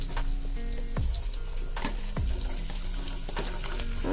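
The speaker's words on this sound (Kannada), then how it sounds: "ಇಷ್ಟು ಚೆನ್ನಾಗಿ ಫ್ರೈ ಆದಮೇಲೆ ಎಲ್ಲ ತರಕಾರಿನೂ ಒಟ್ಟಿಗೆ ಸೇರಿಸ್ತಾ ಇದ್ದೀನಿ" Vegetables for pulao fry in a pan until browning, a close, steady sizzle and crackle with occasional scraping stir strokes and no voices.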